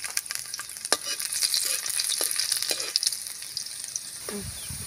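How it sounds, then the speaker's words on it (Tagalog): Garlic sautés in a pan for a mung bean dish with banana heart and moringa leaves, a dense bright sizzle with frequent stirring clicks and scrapes of the utensil, close and steady, with no talking. "magigisa na po tayo ng bawang"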